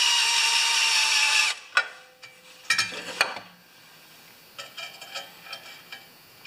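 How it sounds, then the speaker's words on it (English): A power drill bores holes while a 12-volt charging cart is being built: one long, loud whirring burst, then several shorter bursts with clicks in between, and softer rattles at the end. "You don't have to watch me drill holes all day."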